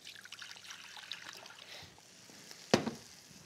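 Water trickles faintly while pie dough is prepared, then a single brief, sharp splash lands as water is poured into a bowl, close by and otherwise quiet.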